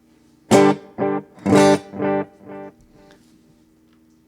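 Guitar played through a Line 6 HX Stomp with reverb: five distinct strummed chords in an even rhythm, loud and close, each ringing briefly before the next, with a short reverberant tail fading at the end.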